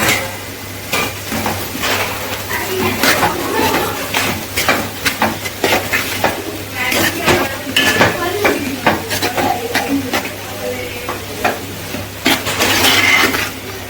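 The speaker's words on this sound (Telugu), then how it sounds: "మూత పెట్టకుండా ఉల్లిపాయలు బాగా ఎర్రగా వేయించుకోవాలి." Onions fry uncovered in a pan for goat meat curry, a steady sizzle overlaid by frequent metal spoon scrapes and clanks against the pot, close and loud, with occasional faint background voices.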